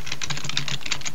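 Rapid typing on a computer keyboard while entering Visual Basic 6 code, a steady run of close, crisp key clicks with no talking.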